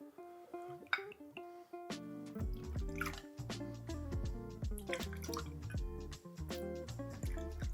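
Clarified Paloma cocktail is poured out for measuring, producing a run of bright, tinkling liquid splashes and drips that are close and fairly quiet, with no talk over them.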